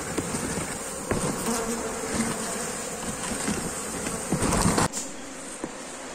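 Honeybees swarm around an opened beehive during a honey harvest, a dense, constant buzzing close by, with a few louder passes as bees fly near.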